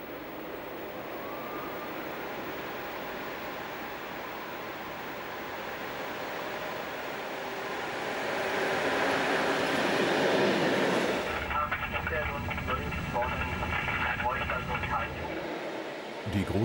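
An old Krokodil electric locomotive hauls a heavy freight train up the Spessartrampe on the Frankfurt–Würzburg line, giving a broad, steady rail rumble that swells, then shifts character, with a voice speaking over it.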